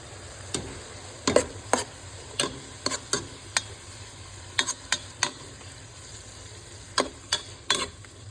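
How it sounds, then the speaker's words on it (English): Beef chili with tomatoes, onions and meat being stirred in a pot, with a steady low simmering sizzle and a series of sharp scraping spoon clicks against the pot at an irregular rhythm, close up with no talking. "Just stir it up"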